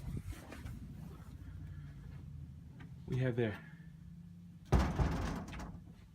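An office door is opened, giving a short creak-and-latch clatter in the middle and a louder knock near the end, with a person talking quietly in between.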